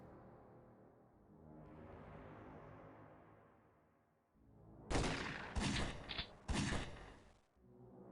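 Three sharp, loud shotgun or boarding-gun blasts from X-piratez go off in close succession at about five, six and six and a half seconds, each followed by a brief ringing tail, after a low swelling ambient rumble.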